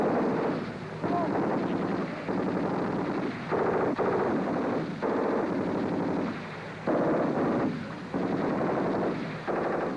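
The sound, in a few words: Minimi light machine gun firing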